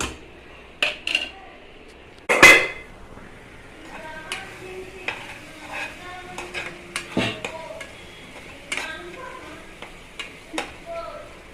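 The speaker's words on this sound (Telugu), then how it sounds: "ఇది ఇలా కూసేపు వేగనిద్దాము." Chicken gravy curry masala frying in a pan while being stirred, with soft sizzling under irregular clinks and scrapes of a utensil against the pan, one sharp louder knock early on.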